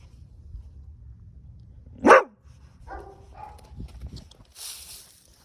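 A single sharp dog bark rings out once during a dog training session, over a low rumbling background, followed by faint scattered sounds and a soft hiss.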